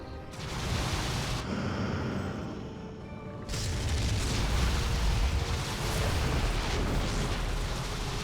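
StarCraft 2 photon cannons fire in a heavy, continuous barrage of booming blasts that swells after a brief lull, loud and dense with overlapping impacts and no speech.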